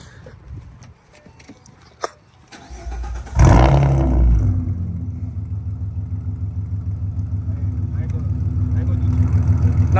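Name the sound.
car engine being started and revving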